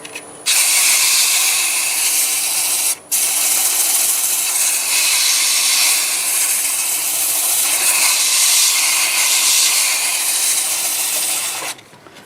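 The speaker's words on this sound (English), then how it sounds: "start with 120 grit with the lathe running forward at about 450 RPM" Sandpaper of 120 grit presses against a wood turning spinning forward on a lathe at about 450 RPM, making a loud, steady abrasive hiss for roughly eleven seconds with one brief break.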